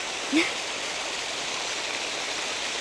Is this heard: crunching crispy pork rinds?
no